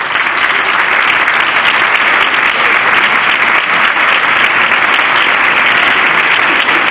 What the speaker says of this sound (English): I give a big applause.